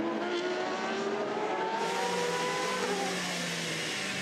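Race cars at the Le Mans 24 Hours, including a Corvette and the number 8 car, roar past in a steady loud engine drone with shifting pitch sweeps as they pass, no talk over the sound.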